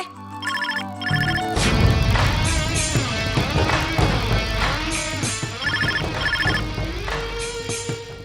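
A phone ringtone plays repeatedly as bright electronic tones over a busy musical backdrop, fairly loud and continuous.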